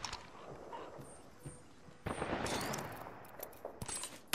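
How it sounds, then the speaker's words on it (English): Distant, muffled gunfire in a video game, with scattered shots and quiet bursts that turn louder and denser near the end over a low ambient bed. "I'm getting shot at."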